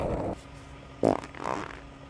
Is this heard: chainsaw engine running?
no